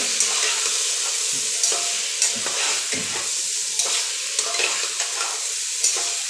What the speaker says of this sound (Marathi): आता हे पूर्ण मी असं मिक्स करून घेते